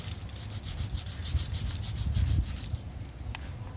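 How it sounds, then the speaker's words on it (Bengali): Brush rubbing back and forth on a dirty conch shell, a close, steady rasping scrub that stops near the end with a single faint click. "এবার আমি একটা ব্রাশ নিয়েছি, ব্রাশে এইভাবে নেব, নিয়ে এইভাবে দিয়ে আমি কিছুক্ষণ ঘষে দেব।"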